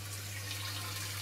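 Hot water runs from a kitchen tap in a steady, faint hiss of flowing water with a low hum underneath, continuous and alone.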